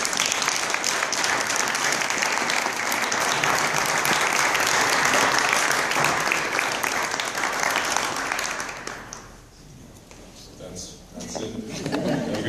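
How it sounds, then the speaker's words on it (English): An audience gives a round of applause at the close of a solidarity lecture, loud steady clapping for about nine seconds that then fades out, followed by quieter room sound and a voice speaking. "Let's hear a round of applause."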